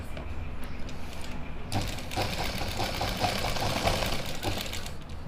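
A sewing machine stitches pleats into a suit, running as a continuous, fairly close mechanical whir and patter that grows a little busier partway through.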